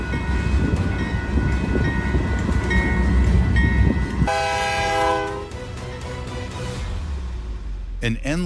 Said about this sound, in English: An endless Union Pacific military train is heavily rolling through the cliffs of Gilbert, Arizona